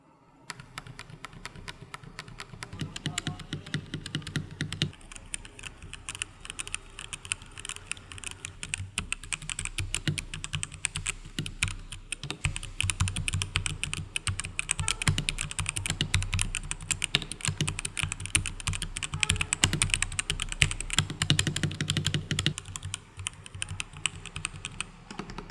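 Someone types on an Evofox Ronin mechanical gaming keyboard, close up. Fast, continuous clacking keystrokes run throughout with no talking.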